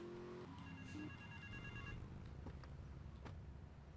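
In the video game GTA Vice City, a telephone rings faintly in short tonal bursts for about two seconds over low engine and street noise from the game.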